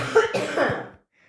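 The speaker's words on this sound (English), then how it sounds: "There's a cough." One person gives a short, harsh cough up close, a quick pair of bursts that fade into silence.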